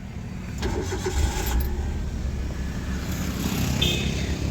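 A Maruti Suzuki Alto 800 car engine, newly repaired after a connecting rod knocking fault, runs at a steady, moderately loud idle close by with no talk.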